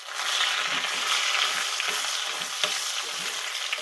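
Garlic and fenugreek seeds fry in a pan for an elakai curd pachadi, giving a steady close hiss with light stirring scrapes throughout and no talking.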